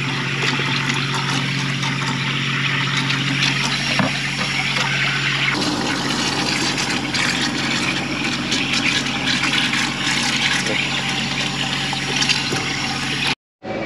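Water pouring into a bucket for washing a car, a steady, loud rushing gush that runs continuously, then cuts off abruptly near the end.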